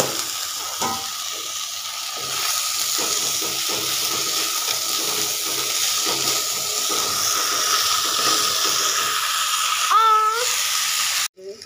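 Rice fries in a pan with black and green cardamom for khichuri, giving a steady sizzle with stirring scrapes, then a brief metallic clink near the end.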